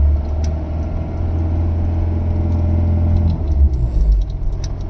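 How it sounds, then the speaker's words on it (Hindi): A Mahindra Scorpio engine held at high revs with the accelerator pressed down, a loud, steady low rumble that wavers and dips slightly near the end, with no talking. "देख सकते हो मैं एक्सीलेटर दबा रहा हूँ, गाड़ी फुल रेस हो रही है"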